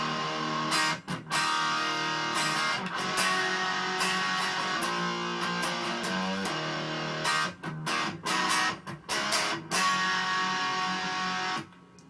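Distorted electric guitar playing the chord progression of a song through an effects unit, strummed chords ringing out with short breaks, alone and fairly quiet.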